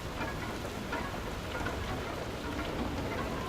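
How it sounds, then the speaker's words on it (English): Rainstorm in the video game FAR: Lone Sails, a dense, steady hiss of rain pattering on surfaces, close and continuous throughout with no speech. "see whether this rain stops and whether the whether we take any damage during this rainstorm"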